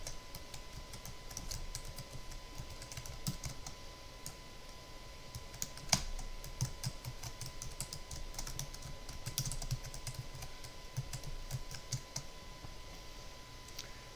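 Steady typing on a computer keyboard while entering text in a word processor, a long run of quick, light key clicks at an even pace with occasional louder taps, close and alone.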